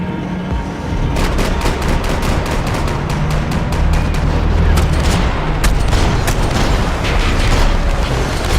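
Gunfire in the shooter Max Payne 3, dense rapid shots and bursts cracking one after another over a loud, constant din of action, with no talk heard.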